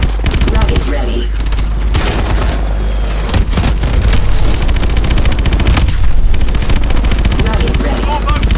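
Dense automatic gunfire rattles loudly in the Call of Duty: Advanced Warfare game, nearly continuous bursts with heavy booms mixed in and in-game voices calling out over the battle.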